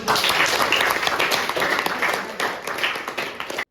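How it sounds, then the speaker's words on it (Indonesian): A classroom full of people claps together, dense and steady for several seconds, then the applause cuts off abruptly. "Oke, tepuk tangan."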